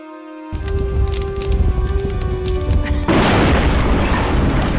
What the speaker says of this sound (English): Fireworks to keep them busy while I escape this cursed old city.